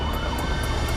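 Ambulance siren switched on, a loud, close electronic siren with a rapid repeating wail filling the whole moment.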